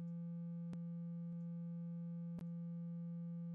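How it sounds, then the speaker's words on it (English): A steady sine test tone from a tone generator in a studio mixing session holds one unbroken pitch throughout, with a few faint clicks along the way. "Let's go ahead and click the tone generator"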